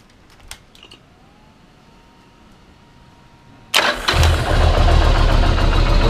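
A 1995 Yamaha Virago XV1100 motorcycle, freshly fitted with a new stator, is started after a few faint clicks. The engine catches abruptly and settles into a loud, steady, close-up idle.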